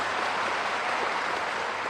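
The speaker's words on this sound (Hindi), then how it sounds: "अरे जोर से ताली बजाओ शांतनु जी के लिए" A rally crowd at an Amit Shah event at the Petrapole border applauds, with dense continuous clapping steady throughout and no gaps.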